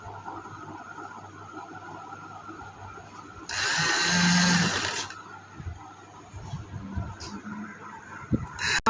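A sewing machine stitches the frill of a summer frock in one close, steady whirring run of about a second and a half, set against an otherwise quiet room.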